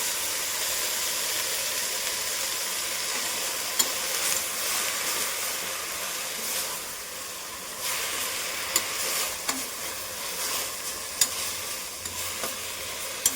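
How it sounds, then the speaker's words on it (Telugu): Amaranth leaves fry in a spiced masala for a pulao, with a steady, dense sizzle and hiss under repeated stirring strokes and occasional sharp clicks of a spoon against the pan. "మన మసాలాలో ఈ తోటకూర అనేది బాగా ఫ్రై అయిపోవాలండి"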